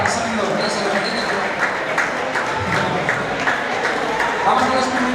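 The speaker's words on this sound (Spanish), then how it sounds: "Te aplauden tanto que le digo, ¿qué está pasando?" Sustained applause from an audience at an athletics awards gala for a running circuit, loud and continuous across the whole stretch, with a voice talking over it.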